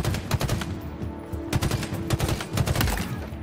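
Rapid bursts of gunfire crackle in Halo Infinite, with sharp repeated shots clustering into volleys that come and go over a steady low rumble of game ambience.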